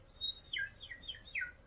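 A voice imitates a bird call with a few high, whistled chirps that sweep downward in a quick series. The sound is close and fairly faint over a quiet background.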